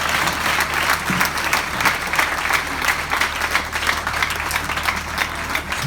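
A church congregation applauds and cheers in praise of Jesus, a loud, steady wash of many hands clapping that fills the room with no break.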